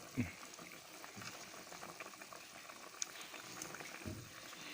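A pot of water at a full boil, producing a continuous faint bubbling and gurgling with a few soft pops, heard quietly and close.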